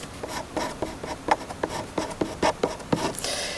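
A pen or marker writing math expressions by hand, quick close scratchy strokes in short irregular bursts, loud and alone.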